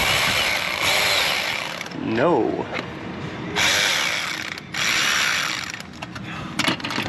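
A power tool whirs in uneven bursts on a Subaru Impreza, revving up and cutting out several times, close by, with a brief spoken word.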